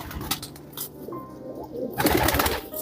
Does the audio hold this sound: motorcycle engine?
no